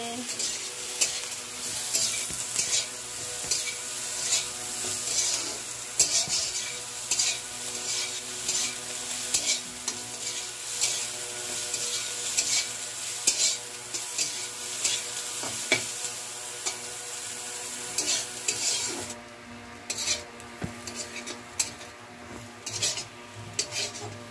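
Ghatkol leaves frying with salt in a pan in a village kitchen, a constant sizzle broken by frequent scraping strokes and clinks of a spatula against the pan.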